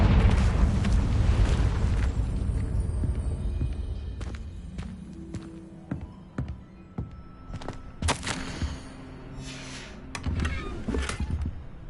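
A fiery Confringo spell blast from Hogwarts Legacy booms loudly at the start and rumbles off, followed by scattered footsteps, pops and clatter of the game scene.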